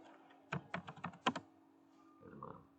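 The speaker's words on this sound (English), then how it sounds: "Let me type it and see." Someone types on a computer keyboard in a quiet room, a quick cluster of about seven close, crisp key clicks followed by a softer, muffled patter of keystrokes over a low steady hum.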